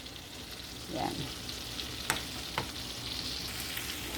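Ginger sizzles as it sautés in margarine in a pan, a constant frying hiss with a few sharp clicks of a spatula stirring, and a brief spoken word partway through.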